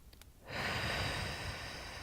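A single forceful breath blown out during a breathing exercise, a sudden broad rush of air that starts after a short quiet gap and holds steady, close and fairly loud, with no talking.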